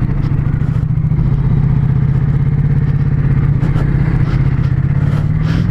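A Ducati motorcycle on a race track holds a loud, continuous engine drone with a fast, gritty pulse, close and steady throughout, with no voices over it.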